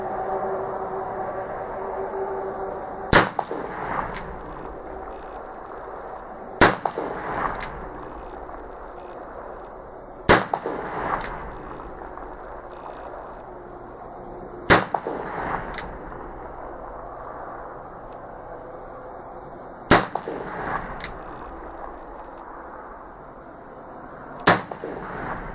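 A Pietta 1862 Sheriff's Model Colt .44 revolver firing six sharp gunshots a few seconds apart, with outdoor ambience in between and each crack trailing off in a short echo.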